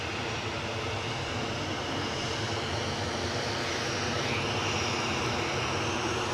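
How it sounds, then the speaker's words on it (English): Dense, continuous engine roar from a Ryanair Boeing 737 departing Edinburgh Airport, loud and unbroken throughout with a faint tonal sweep near the end. "this Ryanair 737 is off to Milan"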